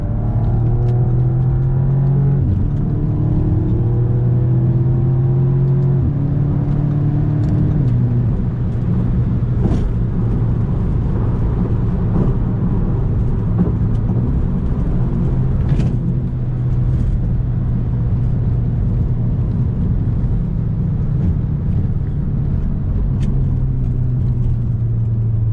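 A BMW G20 in sport mode pulls hard from inside the cabin, its engine a loud steady rumble that climbs in pitch through each gear, dips at the shifts and winds up again, with no talking.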